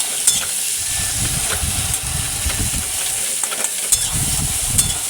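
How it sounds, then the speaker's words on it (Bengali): Chopped onions fry with a steady sizzle in a pan while being slowly stirred, with soft repeated scraping strokes and a few sharp clinks throughout. "পেঁয়াজ কুচিটা দিয়ে একটু নাড়ছি ধীরে ধীরে"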